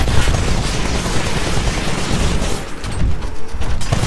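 A Titan's machine gun in the video game Titanfall fires in a sustained, rapid fusillade, loud and close, with dense overlapping bursts and heavy mechanical clatter.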